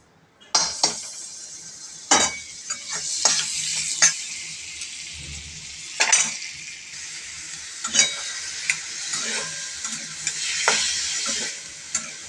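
Boiled chicken and sweet corn being stirred in butter in a wok for chicken sweet corn Maggi: a steady close sizzle with repeated scraping strokes and clinks of a utensil against the pan, no talking.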